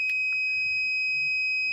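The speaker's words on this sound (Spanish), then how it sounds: "Y la alarma sigue activa porque la temperatura del laboratorio va subiendo." An alarm from a home automation temperature sensor in a lab sounds as a steady, piercing high-pitched electronic tone held throughout, with faint low background noise.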